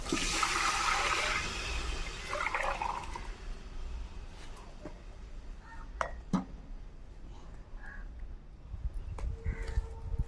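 Water pours into a biryani pot over a wood-fired stove, a gushing splash at the start that fades into softer trickling, followed by scattered clinks of metal utensils against the pot.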